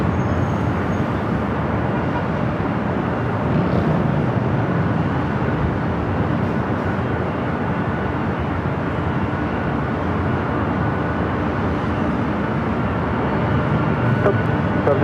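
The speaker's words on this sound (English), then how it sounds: "A United Dreamliner taking off 25 right." A United Dreamliner takes off from runway 25 right at Los Angeles airport, heard as a steady, broad jet roar that holds for the full stretch without a break.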